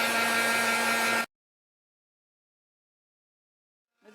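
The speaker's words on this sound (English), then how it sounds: "Now I'm going to take my heat gun and dry this off so I don't have to wait." An embossing heat gun blows steadily for over a second while drying a stamped greeting card, a close, loud, even rush of air that cuts off abruptly into silence.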